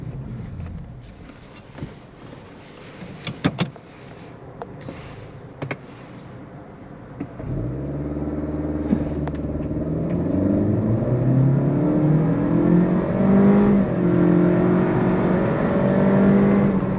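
A 2023 Acura Integra A-Spec does a quick launch: clicks and light idle noise give way to the engine revving hard and climbing through the gears, loud and close from inside the car.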